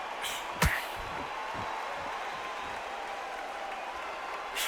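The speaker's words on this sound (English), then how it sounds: "The crowd here cannot wait. They've been buzzing all day long" Arena crowd in a boxing video game, Barrera versus Amir Khan, keeps up a steady, dense buzz of chatter and cheering throughout, with a brief sharp knock near the start.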